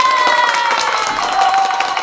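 A live audience claps and cheers in brief, continuous applause, a dense, fairly loud wash of hand claps with faint voices mixed in.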